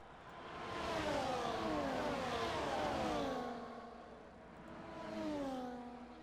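Racing cars in a video game race whine past one after another, their engine pitches sliding downward as they pass, loud and steady with a second pass swelling near the end, no talking.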